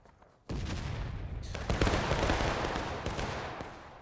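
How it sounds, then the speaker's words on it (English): Musket volley gunfire in the War of Rights video game, a sudden loud crash of massed shots followed by sustained rolling, crackling fire with scattered further reports, dense and close. "Ooh, nice volley on the 42nd."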